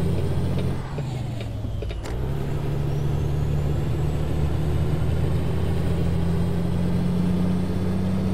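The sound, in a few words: truck engine in video game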